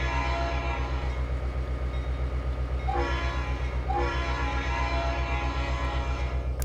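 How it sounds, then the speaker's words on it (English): Trainz 2022 locomotive from the Midwest Grain content pack sounding its horn in two short blasts over a steady, loud diesel rumble and rolling rail noise. "if you don't like the horn, swap it out with something that you like better"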